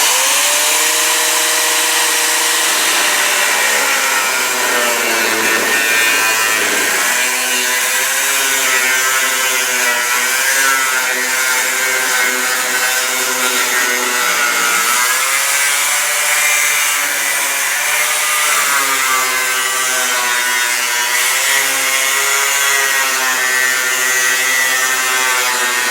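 A power tool cuts into the metal body of a chopped Ford shoebox car, a loud, continuous grinding whine whose pitch rises and dips as the blade bites, running unbroken with no voices.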